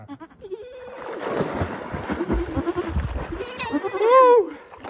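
Goats bleat beside a high mountain lake, with a couple of wavering calls rising near the end over splashing water and human sounds in the background.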